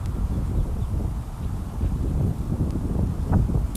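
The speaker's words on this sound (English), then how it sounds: "Whew, yeah, it got windy fast." Steady wind buffets the microphone with a low, rumbling roar that swells and eases throughout, with no voices.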